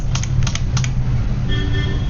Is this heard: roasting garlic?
no